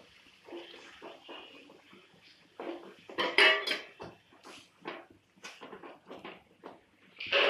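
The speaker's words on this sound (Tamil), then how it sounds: "இன்னும் நல்லா வதக்க போகிறோம்." Ground tomato is stirred into sautéed ingredients in a pan, making a string of scraping and clanking utensil strokes against the metal at an uneven rhythm, some knocks louder and sharper than others.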